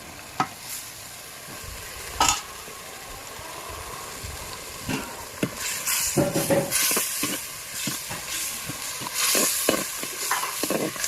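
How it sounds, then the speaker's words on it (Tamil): Ginger garlic paste sizzling steadily in a clay pot, broken by occasional scraping stirs and clatters, growing louder and busier toward the end, with no voices. "நல்லாவே வதங்குறது நல்லா தெரியுது"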